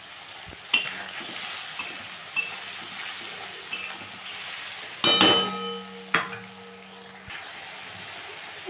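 Green chilies and spices frying in a pan, a continuous close sizzle broken by sharp scrapes and clinks of a utensil stirring against the pan, with a brief louder burst midway and no talking.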